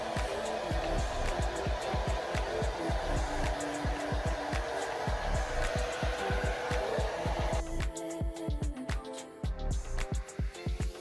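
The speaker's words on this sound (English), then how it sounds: "and so I'm using a blow dryer" A blow dryer roars continuously up close, with rhythmic fluttering pulses as the airflow shifts, its tone changing toward the end.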